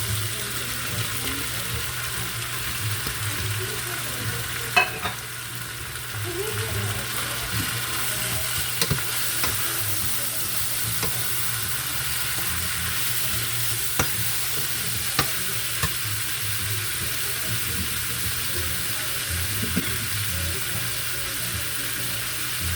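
Ackee is added to a frying pan with a low, steady sizzle and a hum underneath, broken by occasional soft scrapes and clicks of stirring.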